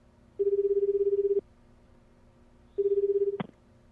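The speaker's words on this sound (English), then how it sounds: "took out his cell phone. He made a call to his superior, Gordon" A cell phone call rings out in the video game 428 Shibuya Scramble, two clean electronic ring bursts separated by a pause, the second cut short by a click.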